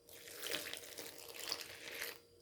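Warm water is poured onto yeast for homemade wholegrain bread, a soft, steady close pour lasting about two seconds, alone and fairly quiet.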